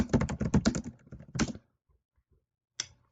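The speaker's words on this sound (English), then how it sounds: "Type that in." Rapid keyboard typing in a quiet room: a dense burst of key clicks for about a second and a half, then silence, then one short final clatter like a struck enter key.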